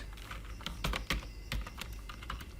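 Fast clusters of clicking keys on a computer keyboard as C++ code for a banking record program is typed, close and fairly crisp, with brief pauses between bursts.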